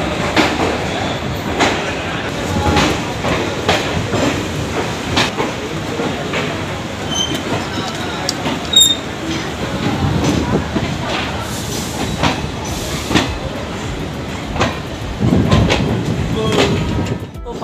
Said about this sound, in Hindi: फाइनली 5 मिनट हॉल्ट के बाद 2 घंटे 10 मिनट की देरी से अपनी निकल चुकी है ट्रेन नरकटिया का जंक्शन से।